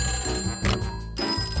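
An old-style cartoon telephone bell rings in two loud, close bursts separated by a brief pause, with no talking during the rings.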